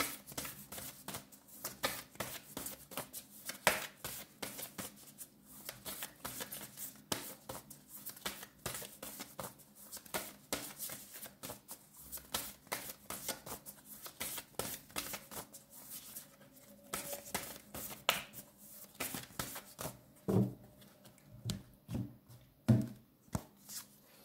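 Tarot cards shuffled and drawn, a long stretch of quiet rapid riffling and tapping close by, ending with a few sharper snaps as cards are pulled.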